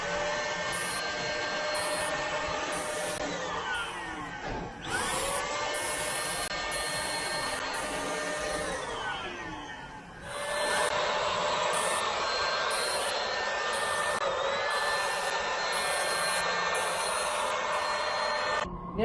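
A spray gun applies the final coat of Restore coating to a coil, making a continuous hissing spray with brief pauses as it sweeps across, moderately faint and steady, with no talk.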